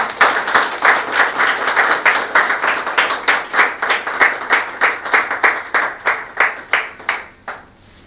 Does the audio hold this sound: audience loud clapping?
yes